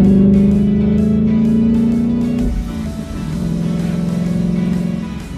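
A 2019 Ford Mustang GT revs loud and close, its engine note climbing steadily, dropping briefly at a quick gear change, then pulling strongly again with no talking over it.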